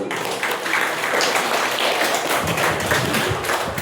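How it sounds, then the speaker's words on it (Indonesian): Applause from students and parents at a school report-card and farewell ceremony, a steady patter of many hands clapping throughout at moderate level. "Tepuk tangan."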